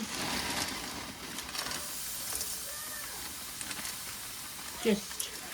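Onions browning in a frying pan give off a steady close sizzle with faint stirring scrapes, one brief louder clatter near the end.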